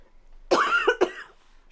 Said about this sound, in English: cue the cough